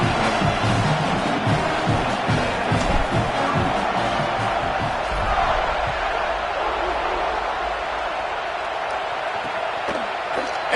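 Home crowd cheering at a college football game between Georgia and Texas A&M fills the stadium as a loud, steady roar, with a commentator talking over it.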